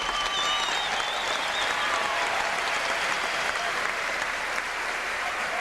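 A stadium crowd at a 1988 high school baseball game between Eagle Pass and Cooper High applauds steadily and loudly for several seconds, with a broad wash of clapping and cheering.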